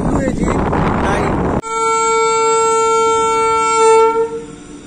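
Train pulling out for shunting at a railway station: loud rumbling movement noise breaks off into a long, steady, sustained horn blast that swells slightly before easing, heard close and dominating.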